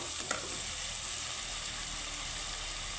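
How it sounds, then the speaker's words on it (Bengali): Eggplant frying in a pan with coconut and spices for a vegetarian Bengali dish, a steady close sizzle that runs the whole time with a brief stir near the start and no talking. "খুব সুন্দর করে ভেজে নেব"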